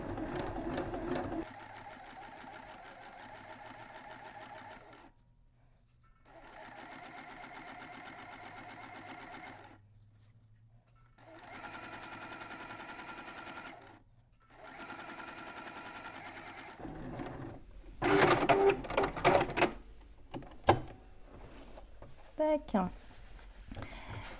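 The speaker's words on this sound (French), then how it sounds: "J'ai donc cousu mon passepoil au bord de ma couture précédente" A sewing machine stitches piping with a blind-hem presser foot in several steady whirring runs separated by short pauses, followed by handling noises and a few clicks.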